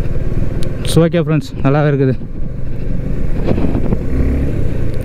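A new Suzuki motorcycle on a test ride during a World Motorcycle Day event in Bangalore gives a steady low engine drone throughout, with someone talking loudly over it.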